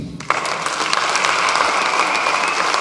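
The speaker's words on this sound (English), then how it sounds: "A big round of applause." An audience at a fundraising launch event breaks into sudden, sustained applause, a dense, steady clatter of many hands clapping close by that holds loud to the end.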